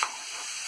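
Cumin, green chillies and chopped onions fry in a pan, giving a brief, close, steady sizzling hiss with a small clatter at the start and no voices.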